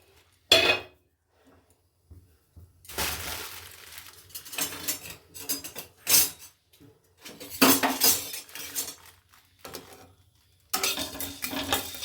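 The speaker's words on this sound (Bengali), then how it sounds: "প্রথমে আমি আলুর দমের জন্য গোলমরিচ, গোটা গোলমরিচ, ধনে, মৌরি, শুকনো লঙ্কা আর গোটা জিরে, এটা আমি ড্রাই রোস্ট করে নেব" Whole peppercorns, coriander, fennel, dried chili and cumin dry roasting in a pan for aloo dum, with a spoon scraping and rattling them in irregular bursts separated by brief quiet gaps, close and moderately loud, no voices.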